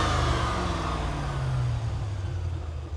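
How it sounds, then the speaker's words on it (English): A C5 Corvette V8 fitted with a MagnaFlow exhaust gives one quick rev, rising sharply and then falling back toward idle, loud and close with no talking. "I'll give you guys a quick little rev here."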